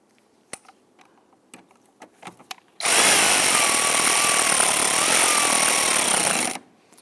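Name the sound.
tightening airbox anchoring bolt on Dodge Charger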